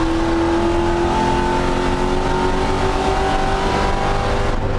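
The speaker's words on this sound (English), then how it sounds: "We just want to get the car rolling through the apex and then full throttle on corner exit." Race car engine at full throttle on the Canadian Tire Motorsport Park circuit, a loud, steady high-revving drone accelerating out of a corner, sustained and close for the whole stretch with no talk.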